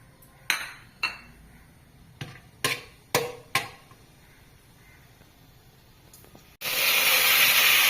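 Cinnamon and cloves drop into hot oil set aside from frying for prawn biryani, with a few sharp taps and clinks before a loud, steady sizzling hiss bursts up near the end.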